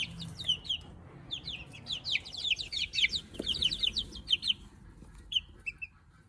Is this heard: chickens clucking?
yes